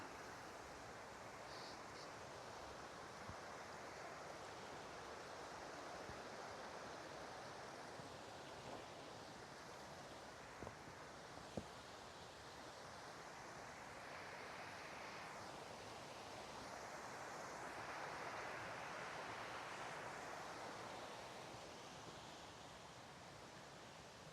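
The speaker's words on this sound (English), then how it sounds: "So I see rushing water way up there." Steady, broadband roar of rushing water from a distant waterfall stream on a steep, rocky Wisconsin forest trail at Long Slide Falls, continuous and even throughout with no voices.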